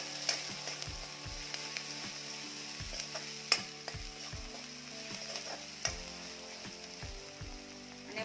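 Chopped onion frying in hot oil in a pan for a mixed dill and bell pepper vegetable dish, a steady soft sizzle punctuated by repeated light scrapes and taps of a spoon as it is stirred.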